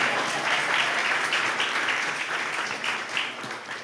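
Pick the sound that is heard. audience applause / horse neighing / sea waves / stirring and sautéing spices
audience applause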